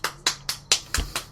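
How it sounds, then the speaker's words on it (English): People clapping their hands in a quick, even rhythm of seven or so sharp claps, close and distinct, with no talk. "clap your hands."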